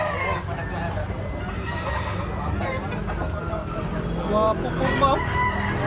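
A bullstag rooster crows in a busy yard among other fowl, its brief calls rising over steady background noise and crowd chatter, with someone talking throughout.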